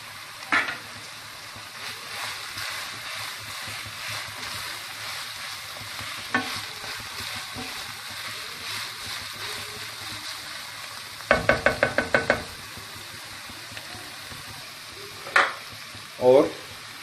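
Tomatoes tossed into browned, frying keema and stirred, a steady sizzle with scattered scraping knocks and a short burst of rapid clatter from the spoon against the pot, no talking.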